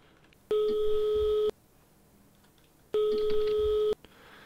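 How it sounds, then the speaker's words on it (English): A telephone in a horror video game rings in two long electronic bursts, each about a second, separated by a pause of roughly a second and a half, loud and close with no talk. "I put the phone down. Why is it still ringing?"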